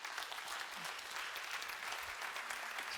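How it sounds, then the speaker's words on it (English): Audience applause for a speaker at a Women in Data Science conference, a steady dense clapping from a large crowd that fills the whole stretch at even loudness. "So please give a very big applause for Petra."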